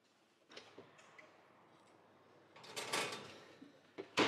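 A dish is slid into a kitchen oven and the oven door is shut, faint clicks and rustles building to a louder scrape and a closing clunk near the end, with no talk.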